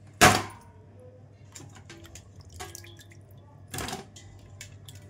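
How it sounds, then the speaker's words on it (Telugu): Fish pieces are rinsed in water: a sharp splash opens, followed by soft drips and small trickles, then a second wetter splash near the end, all fairly quiet with no talk. "శుభ్రంగా 3-4 టైమ్స్ వాష్ చేసేసుకుందాం."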